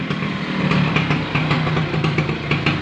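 An old Vespa PTS scooter engine runs steadily nearby, a loud buzzy two-stroke putter with a constant rhythm and no talk.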